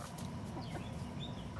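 Backyard chickens and a rooster cluck softly, a faint, continuous low murmur of fowl heard from a distance with no talking.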